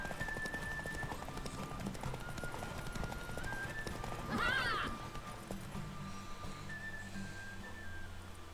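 A horse in The Witcher 3 gallops with steady clip-clop hoofbeats and lets out a short neigh midway, with faint background ambience underneath.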